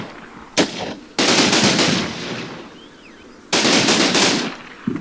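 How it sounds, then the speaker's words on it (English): Bursts of machine gun fire in the Combat Mission Normandy war game: a brief rattle, then a long loud sustained volley that tapers off, a pause, and another heavy extended burst, with no talking. "our machine gun is firing in the general direction"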